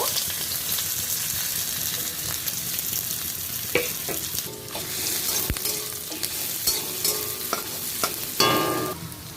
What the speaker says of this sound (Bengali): এলাচ দিলাম দুটো তেজপাতা এগুলো একটু ভেজে নিয়ে পেঁয়াজ কুটি কুচিটা দিয়ে দেব